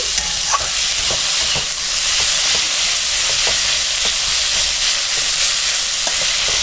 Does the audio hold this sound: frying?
yes